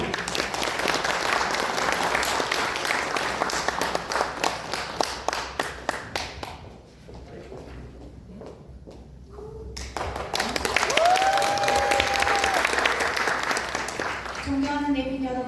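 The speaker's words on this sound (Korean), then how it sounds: "큰 박수로 환영해 주시죠." Audience applause at a social cooperative's opening ceremony welcoming a presenter, steady clapping for about six seconds, then a hush and a speaker beginning to talk over the room.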